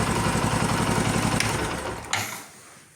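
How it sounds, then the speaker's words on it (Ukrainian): A Bajaj Boxer motorcycle engine idles with a steady low putter during idle-speed adjustment, then a brief clack and the running sound tapers off toward the end. "Тобто цього достатньо, щоб виставити правильно холості оберти, відрегулювати."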